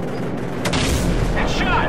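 Heavy cannon fire from a gunship in Call of Duty 4: Modern Warfare on Xbox 360, dull booming impacts landing in quick succession under a constant low rumble, with voices talking over the blasts.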